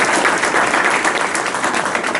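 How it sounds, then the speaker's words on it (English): A live audience at a storytelling event gives a steady, dense round of applause, loud and close, filling the whole moment without a break. "Let's give her one more round of applause."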